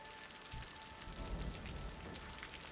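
Rain falls in the city-building game Cities: Skylines, a soft, steady patter of drops across the surface with a faint low rumble, heard quietly and without voices.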